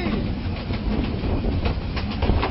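Train noise heard from the gap between two trains at Sylhet: a loud, steady rumble with rail clatter and faint clicks throughout, dense and close.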